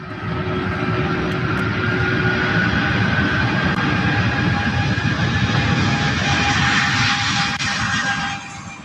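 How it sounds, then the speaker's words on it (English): A UPS Boeing 747-8 freighter departs SDF airport in Louisville, its jet engines producing a loud, steady roar with a whining tone that holds for several seconds before fading. "departing to Dallas Fort Worth on a UPS 747-8"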